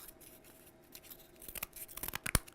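Scissors snip through cardboard with a rapid run of crisp cuts that grow louder and denser toward the end, finishing in one sharp, close snap.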